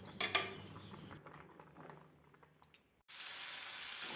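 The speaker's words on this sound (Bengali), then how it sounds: "আলুটা কিন্তু ভেজে নিচ্ছি আগে" Potatoes frying in a pan in a home kitchen, ready for chicken kosha. After some soft clatter, a sudden, steady hiss of sizzling oil rises and holds close and clear.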